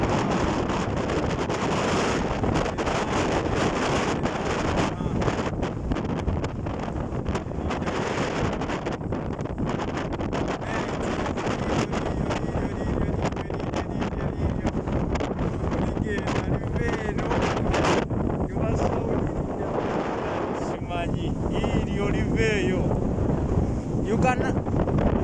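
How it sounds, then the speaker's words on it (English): Strong desert wind blows continuously across a microphone in the UAE, giving a loud, unbroken roaring rush with gusty buffeting throughout. "There's a lot of wind here."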